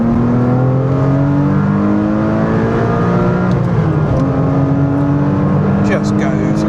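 A Porsche 987.1 Cayman S pulls hard in second gear, its engine note climbing steadily in pitch with strong rising harmonics, heard from inside the car over continuous road and wind noise.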